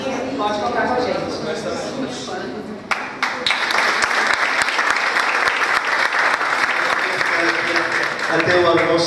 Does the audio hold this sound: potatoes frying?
no